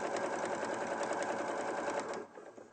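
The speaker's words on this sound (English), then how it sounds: "So you're just stitching, the top stitching across the top of the pocket." A sewing machine runs steadily, top-stitching across the top of a bag pocket, its fast even needle rhythm loud and close for about two seconds before it stops and a faint quieter sound follows.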